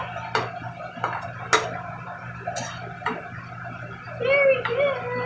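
Tomato sauce is stirred into pink beans in a pot, giving a series of irregular spoon knocks and scrapes against the cookware, with faint talking toward the end.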